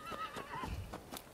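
In the game Rise of the Ronin, a horse answers a call with a brief whinny while its hooves clop along, close and fairly quiet.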